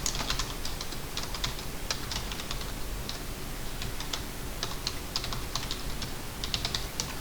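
Steady, rapid clicking of computer keyboard keys being typed, including Shift key presses while drafting in AutoCAD, close and continuous with no talking.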